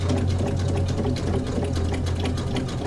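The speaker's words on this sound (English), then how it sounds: "with this vinyl foot, it sews super easy on the vinyl" A sewing machine fitted with a vinyl foot stitches through vinyl, running as a loud, close, continuous rapid whirring hum with no pauses.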